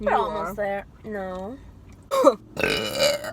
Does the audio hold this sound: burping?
yes